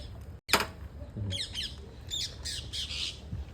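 A parrot gives one sharp, loud squawk early on, then follows with a string of shorter chirping and squawking calls at close range in a quiet home setting.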